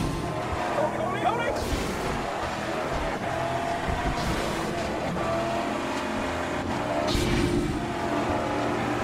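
Vehicle engine droning steadily while driving in the Mad Max game, a continuous rumble with occasional bursts of louder noise and a voice speaking over it.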